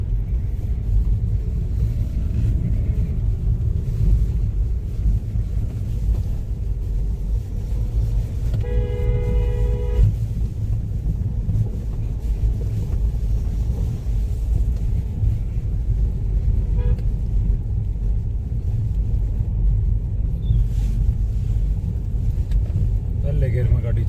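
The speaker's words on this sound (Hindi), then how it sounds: "पहले गियर में गाड़ी चढ़ी है भाई" A car climbs a steep unpaved mountain road in first gear near Chicham in Spiti, giving a loud, steady engine rumble throughout, with a short horn toot midway and a voice speaking now and then.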